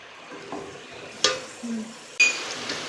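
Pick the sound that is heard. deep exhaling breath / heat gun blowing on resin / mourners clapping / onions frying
onions frying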